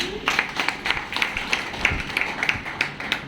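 Audience at a gathering of LIC insurance agents clapping in a steady, fairly dense patter of many hands for several seconds, moderately loud with some room reverberation.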